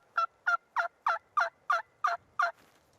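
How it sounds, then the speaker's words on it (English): A run of eight quick, high-pitched turkey call yelps in an even rhythm, fairly faint, ending with a softer trailing note. "bring that high pitch part of a turkey call to sound something like this"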